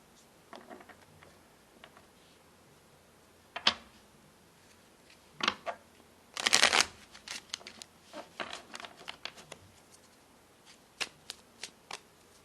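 A standard tarot deck being shuffled, with soft card riffles and slaps arriving in irregular bursts and a dense flurry in the middle, close up and alone with no talking.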